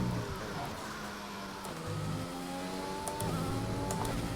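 Racing car engine in the F1 2020 video game on the Bahrain circuit, a steady high-revving whine that climbs and drops through gear shifts, loud and continuous with no talking.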